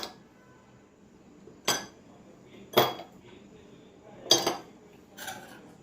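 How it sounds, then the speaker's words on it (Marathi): Ice cubes drop into a drinking glass for a banana milkshake, giving about five separate sharp clinks spaced a second or so apart in an otherwise quiet kitchen. "आता हे माझ्याकडे ग्लास आहे, तर ह्यामध्ये हे बर्फाचे क्यूब टाकून घ्यायचे आहेत आपल्याला"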